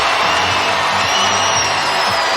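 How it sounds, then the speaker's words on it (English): A loud, dense crowd roars continuously in a gymnastics arena during a UCLA at Utah college meet, a sustained wash of cheering with no pauses. "You hear the crowd."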